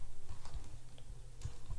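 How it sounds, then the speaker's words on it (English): Steady typing on a large computer keyboard, with soft, quick key clicks and taps in an uneven rhythm over a low background hum, fairly quiet and close, no voices. "this is a way bigger keyboard, so I'm not used to it"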